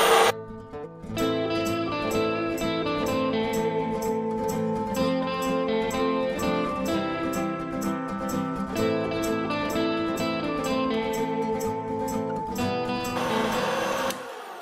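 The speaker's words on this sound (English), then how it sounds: "Now that I have the first grind done on coarse" An electric meat grinder runs a coarse first grind of venison, giving a steady, loud mechanical whir with a regular rhythmic churn. It runs continuously for the whole stretch with no voices.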